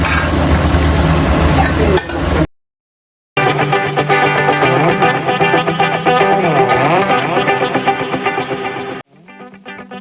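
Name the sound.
frying okra with chili, onion, turmeric and cumin in oil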